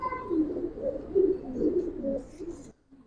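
Giribaz and colouring pigeons coo steadily at a busy pigeon market, a continuous overlapping low murmur of calls up close that cuts off abruptly just before the end.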